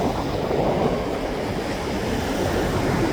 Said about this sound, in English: Maybe after when this train clears.